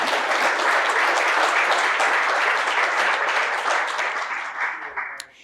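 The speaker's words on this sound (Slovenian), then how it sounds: "Jaz mislim, da lahko bolj močno zaploskate." An audience applauds at a formal award ceremony for plaques presented by the National Council of Slovenia, dense sustained clapping from a large crowd that fades out at the end.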